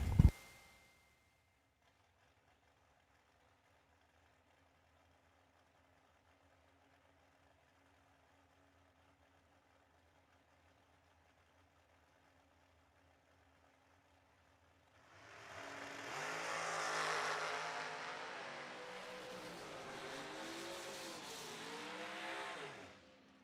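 Drag racing dragsters at a New Year Nationals event: after a brief thump and a long faint hum, a loud engine roar rises midway and holds as the cars launch down the track, heard from a distance.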